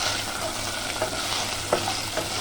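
Pork spare ribs stir frying in rendered oil, a steady close sizzle with scraping stirs and a few sharp utensil clicks against the pan, no voices.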